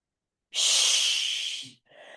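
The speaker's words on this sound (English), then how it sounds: "And then exhale. And then inhale." A single long, deep breath during a yoga pose practice, a broad airy rush lasting over a second, loud and close, then fading, with a softer breath starting just after; no talking.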